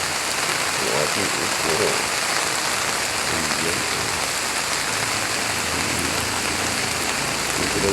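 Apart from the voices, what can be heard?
heavy rain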